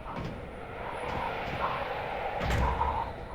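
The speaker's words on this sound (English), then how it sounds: "Sounds like wind." Steady low howling wind inside the video game Ghostship Aftermath, a continuous rumbling drone that swells slightly toward the end, heard alone without talk.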